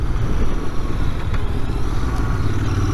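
Royal Enfield Interceptor 650 twin ridden on the road, a steady low engine drone mixed with wind rush, constant and loud throughout with no voices.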